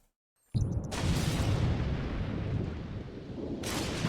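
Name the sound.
lightning strike thunder in The Sims 4 video game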